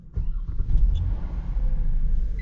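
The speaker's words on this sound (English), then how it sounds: "Alright, we'll go ahead and start it up." A Genesis sedan's engine cranks and catches right after its throttle body has been cleaned, settling into a steady, close, low rumbling idle.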